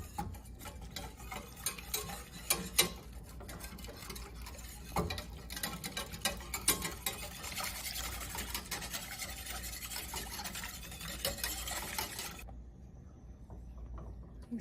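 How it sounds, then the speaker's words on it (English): A whisk works through a chicken broth mixture in a pan, giving a steady close scraping and light rapid clicking that continues for several seconds before cutting off near the end. "Let me just give it a light whisk before I stir it."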